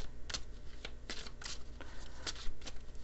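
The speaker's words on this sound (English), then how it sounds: "I'm going to pull a couple of Lenormand cards here." Lenormand cards shuffled by hand, a series of soft, quick riffling bursts close to the mic, fairly faint against a low steady background hum, with no talk.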